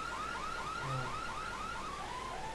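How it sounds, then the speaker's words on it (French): Alarm going off in the video game Dead Island: a repeating electronic siren with rising-and-falling sweeps, about nine cycles in quick succession, moderately loud and steady with no talk over it. "Ouais, j'ai activé une alarme les gars."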